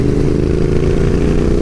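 Royal Enfield Interceptor 650 parallel-twin engine with free-flowing aftermarket headers, a steady, loud, deep rumble running close and unbroken, no voices over it.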